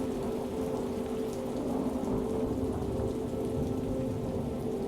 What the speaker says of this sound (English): But you have come to face the storm today.